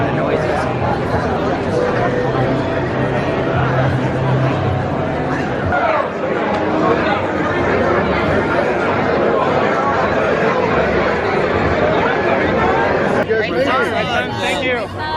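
A dense, steady crowd murmurs at the entrance of Star Wars: Galaxy's Edge on the opening day of Rise of the Resistance. The many overlapping voices form a continuous hubbub with no pauses.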